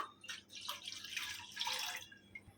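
Water being poured into full cream milk in a pan, with soft gurgling splashes that rise and fall over about two seconds, quiet and close.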